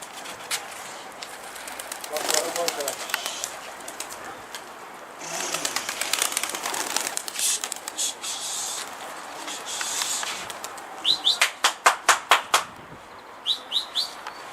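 Pigeons, one a blue-headed bird, flock together with soft scattered coos and wing flutters, then a run of sharp rhythmic clapping-like bursts near the end, with faint voices in the background.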